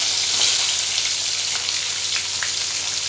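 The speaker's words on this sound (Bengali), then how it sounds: "এবারে বেগুন ভেজে নেব।" Brinjal slices fry in a pan of hot oil, producing a loud, dense, unbroken sizzle like heavy rain, close up with faint crackles and no voices.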